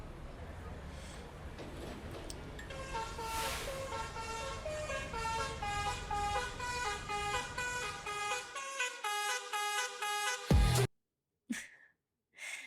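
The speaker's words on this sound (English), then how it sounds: "this is just like a vehicle honking" Vehicle horn honks used as the hook of a pop song, repeated in rhythmic, loud blasts over a driving beat before the music cuts out abruptly.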